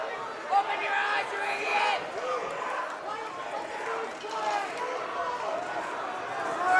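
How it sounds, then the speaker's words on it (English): Visiting crowd at a high school boys basketball playoff game booing and murmuring in displeasure at a referee's call, a continuous indoor gym roar with a commentator talking over it. "Visiting crowd not happy with that call"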